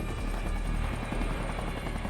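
A Coast Guard rescue helicopter hovers low over the open sea during a Hurricane Katrina rescue of a fishing vessel, its rotor and turbine a loud, steady, continuous roar close by with no talk.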